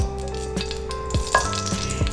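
Cooking oil heating in a very hot pan before sausage goes in to fry, a soft sizzle with a few light clicks of utensil against the pan, brief and alone.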